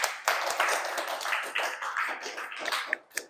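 Audience applause at a student association talk event: a short burst of steady, moderate clapping from a small group, fairly faint and fading toward the end.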